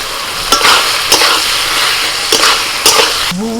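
Fried potatoes tumble into a sizzling spice masala for a spiny gourd (kakrol) curry. Close, loud frying hiss is broken by several sharp spatula scrapes and stirring strokes, and no voice is heard.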